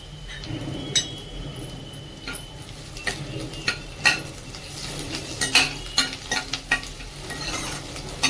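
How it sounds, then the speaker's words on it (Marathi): Ginger and garlic sauté in a pan, a steady sizzle running throughout while a spatula scrapes and clinks against the metal in irregular bursts, close and fairly loud, with no voices. "आलं आणि लसूण छानपैकी असं परतून घेऊया"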